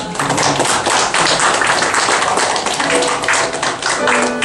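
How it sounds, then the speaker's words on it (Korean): People at a church prayer meeting clap for the accompanists, a close, busy patter of hand claps that stays loud and steady from start to finish. "박수 한번 쳐주시고요."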